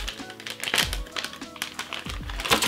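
Small plastic-bagged drone frame parts clatter and crinkle as they are dumped out onto a surface, producing a quick series of close, sharp taps and rustles.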